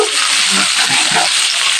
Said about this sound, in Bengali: গাজর, ফ্রেঞ্চ বিন, আলু, ফুলকপি একসাথে হালকা ভেজে নেব।